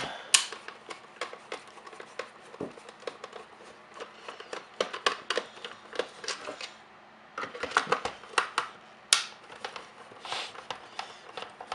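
Screws are being removed from the plastic base of an old blender, heard as a close, uneven series of small metallic clicks and light scraping ticks with brief pauses; there is no talking.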